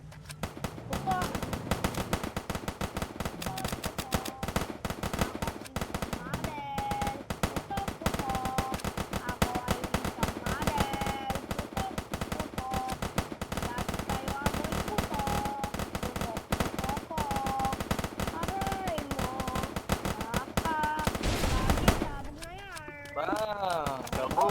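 Rapid bursts of gunfire crackle almost without pause, like close machine-gun fire, with voices shouting and talking throughout the barrage.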